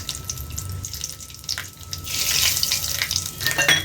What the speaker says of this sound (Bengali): আমি তেলের মধ্যে এই সর্ষে আর শুকনো লঙ্কা দিয়ে দিলাম